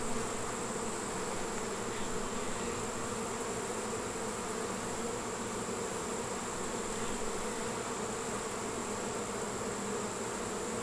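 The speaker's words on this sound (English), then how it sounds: "I was shaking bees out of it back there, but they're not happy at all." Agitated honeybees swarm around a hive infested with hive beetles, making a dense, continuous buzzing drone that stays loud and steady throughout, with no voices.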